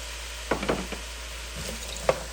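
Garlic, sweet potato and dried mushroom in a pot give a steady sizzle, with a few sharp spatters and soft clinks as the pieces land in the hot oil.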